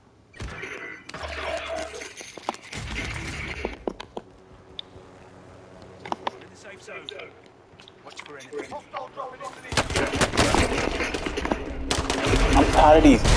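Pistol fire in the video game Warzone comes as sharp, scattered shots and bursts mixed with game noise, with a person talking loudly over much of it.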